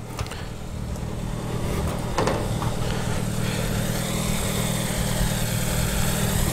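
A classic car's 933cc, 8-horsepower engine runs steadily at a low, even idle, a soft continuous hum with a slight rise in intensity partway through and no talk over it.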